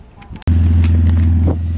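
Car engine with open downpipes dumping exhaust at the firewall on a drift build, a sudden loud deep roar that kicks in and drones steadily, close and harsh, then eases slightly near the end.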